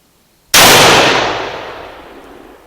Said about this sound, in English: first shot.